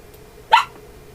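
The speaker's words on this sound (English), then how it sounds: "That's my dog." A single short dog bark rings out at mid distance in an otherwise quiet room with a faint steady hum, and nothing else follows it.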